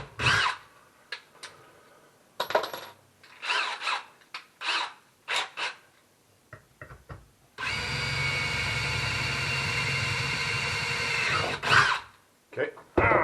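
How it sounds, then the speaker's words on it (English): A power drill bores into a workpiece in one sustained whirring run of about four seconds, preceded by short bursts of rasping and rubbing. Someone talks in between. "So I just got to drill that"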